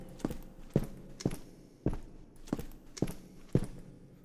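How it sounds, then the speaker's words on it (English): Footstep sound effect from a Unity 2D game demo, heard as a character walks toward a cave: seven evenly spaced soft thuds, about half a second apart, close and steady. "And we have our new footsteps,"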